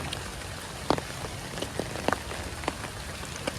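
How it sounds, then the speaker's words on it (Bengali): Steady rain patters on a surface, close and even, with a few sharper drop impacts standing out and no voices. "আর এখন তো বৃষ্টি"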